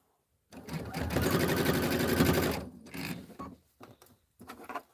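A sewing machine runs steadily for about two seconds as it stitches fabric with a taut upper border, then stops and leaves only a few faint short bursts.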